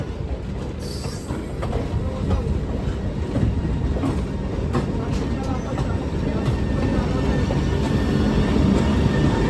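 WAG-12 electric locomotive, 12,000 horsepower, running on a parallel track beside a moving passenger train, a dense, loud rumble of wheels with faint clatter and occasional squeal, building slightly over time.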